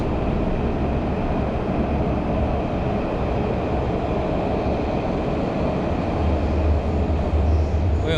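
Hefei metro subway train rumbles steadily from inside the car, a continuous low roar throughout without talking.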